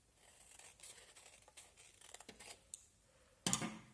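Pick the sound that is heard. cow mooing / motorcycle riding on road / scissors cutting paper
scissors cutting paper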